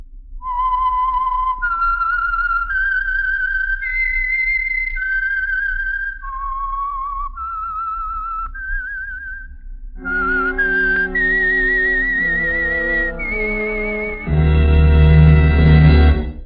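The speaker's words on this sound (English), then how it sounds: "the signal to listen for is this whistle that identifies the Signal Oil program" The whistled theme signal of the old-time radio show The Whistler: a melodic tune rises and falls in clear sustained notes, then an orchestral passage joins in and swells louder toward the end.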